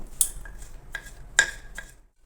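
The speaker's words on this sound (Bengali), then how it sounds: "এভাবে আমি পিস পিস করে সব টমেটোগুলো কেটে নেব।" A knife slicing tomatoes into pieces taps crisply against a cutting board, four distinct knocks spaced irregularly in quiet surroundings.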